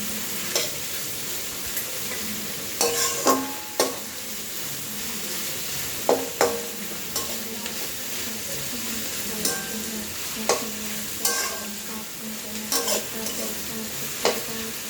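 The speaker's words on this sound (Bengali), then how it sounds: "পেঁয়াজগুলোকে একটু ভেজে নিতে হবে।" Onions frying in a kadai while a spoon stirs them, with a steady close sizzle broken by repeated scraping knocks of the spoon against the pan, for a chicken maharaja gravy.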